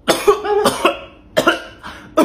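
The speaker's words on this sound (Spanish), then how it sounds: "Tosa, tosa, tosa." A person coughs repeatedly at a doctor's request, four or five harsh, close and loud coughs in quick bursts with short pauses between them, no talking over them.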